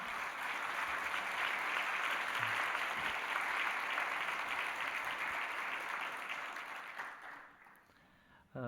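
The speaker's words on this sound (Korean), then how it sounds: "큰 박수로 환영하겠습니다." A church congregation clapping to welcome visiting pastors during a worship service, a broad, steady round of applause from many people that gradually thins and fades toward the end.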